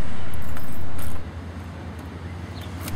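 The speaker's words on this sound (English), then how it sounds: "use the metal keys given to you by your case manager. Insert the key and twist the lock." Metal keys slide into an apartment door lock and twist, giving a short metallic jingle and a few clicks over a steady low hum that is louder at the start and then drops.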